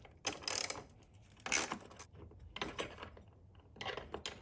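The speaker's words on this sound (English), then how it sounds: "This is a 13mm with an extension on it. I'm gonna go ahead and loosen that up." A 13mm socket ratchet with an extension works loose a battery hold-down bolt on a VW Golf MK7, giving several short, close bursts of ratcheting clicks separated by brief pauses.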